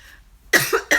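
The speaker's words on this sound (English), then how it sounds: "I'm going to get off of here very shortly because I'm trying not to cough" A woman coughs twice in quick succession, close and sharp after a brief quiet moment, during a live home-cleaning Q&A.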